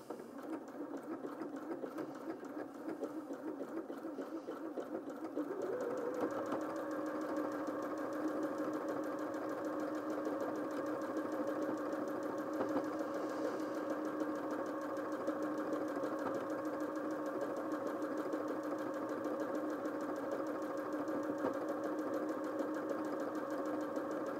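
A Janome M200QDC sewing machine stitches fabric, starting with a lighter whir and settling after a few seconds into a steady, loud motor drone with a rapid mechanical hum that runs on without talk.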